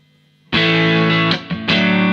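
Electric guitar through a Klon overdrive pedal into amps: after a brief quiet lead-in, a loud, warm overdriven chord rings out, briefly dips, then strikes again and sustains.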